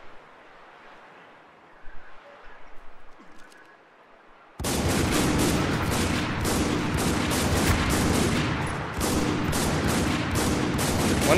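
Video game gunfire in Spec Ops The Line multiplayer starts abruptly after a quiet stretch with faint clicks, then sustained loud rapid shooting and blasts fill the rest of the clip.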